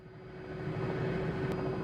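A helicopter in Microsoft Flight Simulator, flying at high altitude, gives a low, steady engine and rotor drone with a faint whine on top, holding even for a couple of seconds.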